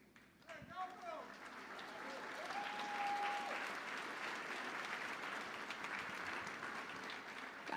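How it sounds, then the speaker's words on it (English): An audience at an elevator pitch competition breaks into sustained applause that swells and holds as a dense, full roar of clapping, with a voice briefly heard at the start. "letting us give you a quick round of applause"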